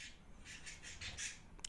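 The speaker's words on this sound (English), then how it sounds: "You guys hear my birds trying to talk to you?" Pet birds squawking and chattering indoors in a room, a run of short high chirps repeating quickly, faint and close, with no talk over them.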